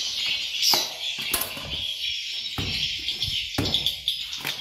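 Swiftlets flit around a bird house, giving a dense stream of high, thin chirps with repeated sharp clicking bursts and wing flutters, close and lively throughout.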